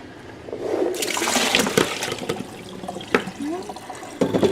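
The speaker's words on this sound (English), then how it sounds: "I'm giving these a healthy rinse" Tap water runs over freshly cracked walnuts in a sink, a steady splashing rinse with brief clattering bursts and gurgles, fairly close and continuous throughout.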